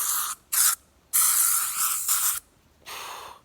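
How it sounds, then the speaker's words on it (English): Several bursts of bug spray from an aerosol can outdoors on a backpacking trail, short hissing sprays followed by longer sustained ones, close and fairly loud with no talking. "I've held out as long as I can without using the bug spray"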